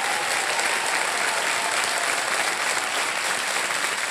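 A studio audience on the KBC quiz show applauds to welcome contestants, a loud, dense, steady clapping that fills the whole stretch with no break.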